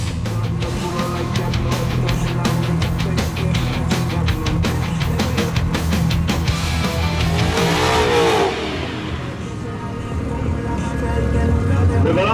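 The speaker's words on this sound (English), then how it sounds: "Next up is the race between Alberto de Santa Anna's Ford Mustang GT and Carlos Hinaú's Peugeot 206." Drag race cars, a Ford Mustang GT and a Peugeot 206, rev loudly and continuously at the start line, engine roar rising and shifting with a sweeping pitch change near the end, with a voice faintly underneath.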